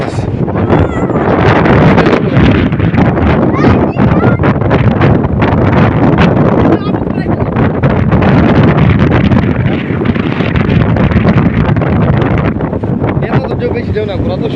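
Strong wind roars through trees in an open riverside area, loud and continuous, buffeting the microphone heavily throughout, with voices faintly mixed in.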